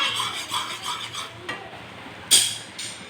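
Jaggery syrup is stirred slowly in a pot, producing soft, rhythmic scraping swishes, fairly quiet and close, with a sharper clink of the spoon against the pot near the end.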